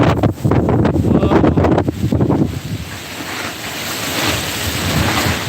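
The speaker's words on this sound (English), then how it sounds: "you all hear that, guys? It's windy." Loud gusts of wind buffet the microphone, followed by a steady wash of rain.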